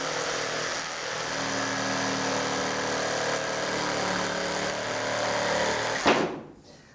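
A power saw runs steadily through soft pine while building sawhorses from pallets, giving a loud, continuous motor drone with a humming undertone for about six seconds before it abruptly winds down and stops.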